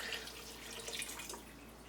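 Water poured into a jar in a home kitchen during soup making, a faint trickling and splashing stream that eases off toward the end, with no talk.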